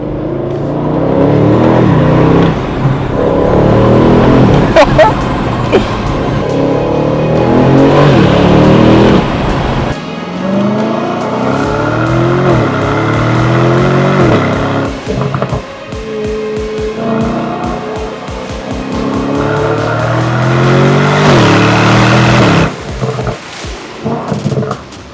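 An Aston Martin DB12 is driven hard on country roads, its engine revving and accelerating loudly through repeated gear changes and rising pulls, close and sustained with no talk.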